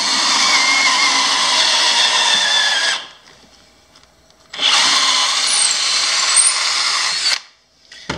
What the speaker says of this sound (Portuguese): Vou fazer um furo aqui no chão.